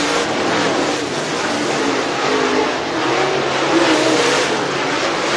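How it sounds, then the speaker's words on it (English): Race cars roar around the dirt track at Duck River Raceway Park during The Gobbler, a loud, continuous engine howl of several cars at speed with no talking. "46 car out on the speedway, Chris Jones out of Alabaster, Alabama."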